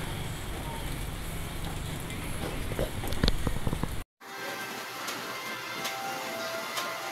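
Steady rain falling outside a home on a flooded street, a dense even hiss that briefly cuts out and resumes slightly softer.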